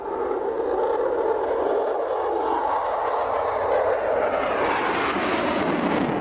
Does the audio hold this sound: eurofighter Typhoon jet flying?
yes